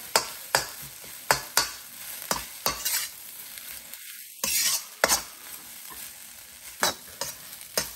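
Egg and cold cooked rice fried over high heat in a pan with oil, with repeated sharp scraping and stirring strokes over a steady sizzle, close and fairly loud, without talk.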